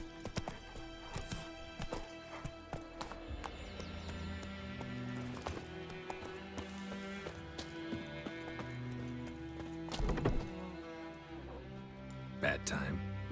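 Horse hooves clip-clop at a steady run in The Witcher 3, close and continuous under a music score, with a brief neigh and people talking over it.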